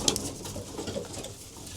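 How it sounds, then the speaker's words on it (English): Racing pigeons coo in a loft, soft low throaty calls repeating steadily and close, with a brief sharper flutter near the start. "Now this definitely looks like digestion and carry lines if it's a Mark Evans pigeon"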